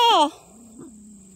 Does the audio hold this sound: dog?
yes